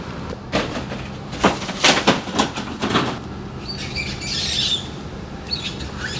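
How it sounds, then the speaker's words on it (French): An unfamiliar bird at a beach in Malaysia, a few short chirps and calls scattered over steady surf-like ambience, followed by a faint higher trill, moderately distant. "J'ai vu une espèce d'oiseau que j'avais encore jamais vu."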